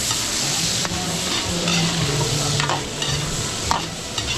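Adobo with potatoes, garlic and onion is stirred and fried in a pan, a steady close sizzle with scraping stir strokes throughout and a brief word at the start.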